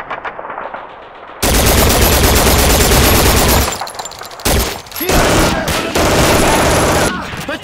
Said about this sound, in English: Sergeant Davis, get on the German machine gun!